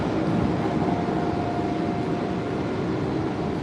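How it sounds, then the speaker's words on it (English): Trains on a city rail line with many colored lines, a steady loud rumble of rolling cars with a faint sustained whine, continuous throughout with no talk. "these are trains"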